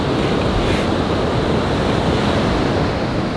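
Ocean waves breaking at Pipeline on the North Shore, a loud continuous roar of surf mixed with wind buffeting the microphone.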